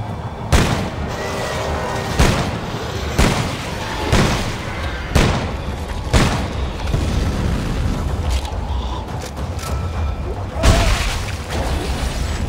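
Enemies firing in Dead Space 3, heard as a run of loud booming shots at roughly one-second intervals over a dense, rumbling game backdrop, close and heavy.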